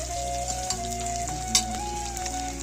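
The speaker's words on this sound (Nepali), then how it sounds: "मासु खतरा फ्राई भइरहेको" Local chicken meat frying in a pan, a constant dense sizzle and crackle with a low background hum and an occasional soft stir or pop, moderately quiet and close.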